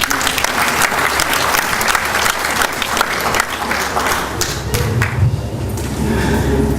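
Loud, sustained applause from a crowd at a closing ceremony, many hands clapping in a thick continuous wash with a few sharper claps standing out, thinning slightly toward the end.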